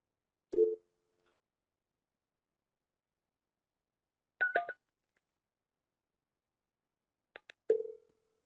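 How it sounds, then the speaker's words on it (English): DTMF keypad tones from a SIP phone call, heard as three short, separate bursts of two-tone beeps spaced a few seconds apart in otherwise quiet surroundings. "Let's dial another number."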